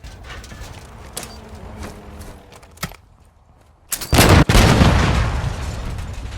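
A tank is destroyed in Call of Duty MW2 with a sudden heavy explosion after quieter scattered thuds and clanks, the blast erupting loud and close, then a long rumbling tail fading slowly, with no talk.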